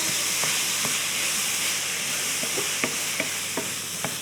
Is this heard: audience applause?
no